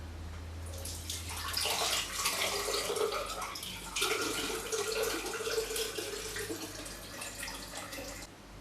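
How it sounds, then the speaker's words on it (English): Water draining through a sieve from kimchi ingredients, a soft splashing, trickling pour that starts after a moment and keeps running with slight surges, fairly quiet and close, no voices. "we want to take away all the water, but we might need some of it, so I'm just going to try to sieve it out here"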